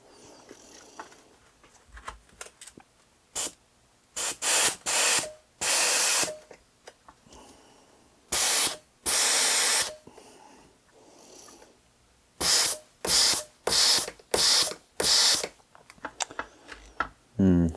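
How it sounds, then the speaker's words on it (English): WD-40 sprays onto a seized brake piston from a Honda CB250RS in loud, close bursts of varying length, some brief and some lasting about a second, separated by quiet gaps with faint workshop noise. "I'm also going to give it a wee squirt with some WD-40 just to help it on its way."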